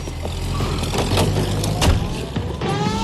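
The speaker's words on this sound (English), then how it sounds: "That's the car, Cole. Just pulling out of the drive." A car in the LA Noire video game pulling out of a driveway, engine rumbling low and close with a few clunks and thumps as it moves off.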